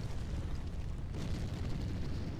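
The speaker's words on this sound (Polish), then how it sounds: "Wybuchy." Explosions from the World War II shooter Call of Duty 2 make a dense, continuous roar of rumbling blasts and debris. The sound stays loud and steady throughout, with no speech over it.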